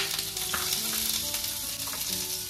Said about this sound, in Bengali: এবার এটা একটুখানি ফ্রাই হোক।